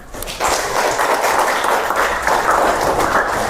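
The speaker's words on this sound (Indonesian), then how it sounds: "Tepuk tangan." Group applause in a classroom setting bursts in after a brief pause and continues as a loud, dense, even wash of clapping hands to the end.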